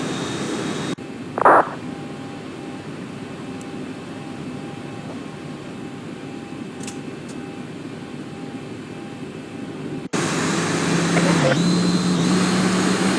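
Airliner jet engines spooling up for takeoff on the runway in a flight simulator of a Fly Dubai departure from Dubai International, a steady broadband roar that jumps louder near the end, with a brief blip early on.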